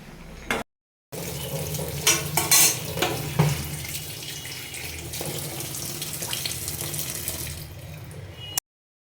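Water pours and splashes from boiled kochu (taro) greens through a strainer in a steady close rush, with occasional clanks of a metal pot, briefly breaking off before resuming.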